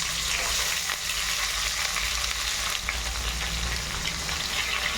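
Mustard seeds and cumin sizzle and crackle steadily in hot oil with onion and curry leaves, a continuous loud dense fry with no voices.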